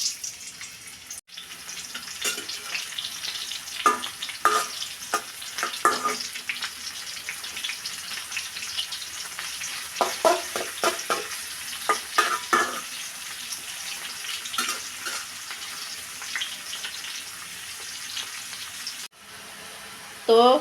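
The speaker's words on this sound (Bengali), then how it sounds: "তেল গরম হলো, ফুলকপি দিয়ে দিচ্ছি।" Cauliflower dropped into hot oil in a wok, crackling and sizzling with intermittent stirring bursts and scraping, fairly close and moderately loud, with a quiet stretch near the end.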